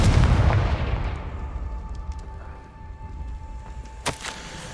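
A Confringo fire spell bursts in Hogwarts Legacy with a heavy boom that decays slowly into a low rumble, followed by a faint hum and a sharp crackling pop near the end.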